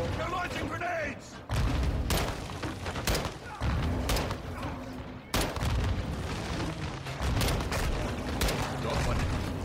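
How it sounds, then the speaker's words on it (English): Grenade launches and combat in Call of Duty Modern Warfare 2, with repeated heavy thumping blasts and bursts of gunfire amid a dense battle din, with voices shouting under the noise. "They're launching grenades!"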